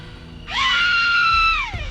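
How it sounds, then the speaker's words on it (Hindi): One terrible, sustained scream in a horror story, loud and close, holding steady for over a second before trailing off, with no other sound around it. "अगले ही पल भयंकर चीख सुनाई देती है।"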